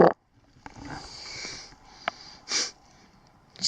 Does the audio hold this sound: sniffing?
yes